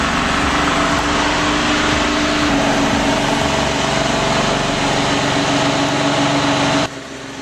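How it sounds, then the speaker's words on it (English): A two-stroke Detroit diesel engine runs on a logging truck, a loud, continuous roar with a steady throbbing that holds for about seven seconds before dropping off. "There's nothing like the sound of a 2-stroke Detroit."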